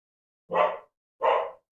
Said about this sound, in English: something set the dog off